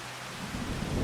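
Steady rain mixed with a low rumble of thunder in the Farming Simulator 25 video game, a brief wash of rainfall with the deep roll growing slightly louder toward the end, no voices.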